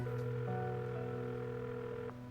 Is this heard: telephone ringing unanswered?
yes